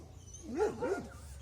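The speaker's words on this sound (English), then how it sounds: "You hear them barking, you probably see them running around." Dogs barking a few times outdoors at a rural home, two rising-and-falling barks or howl-like yips at moderate distance over a low steady background hum.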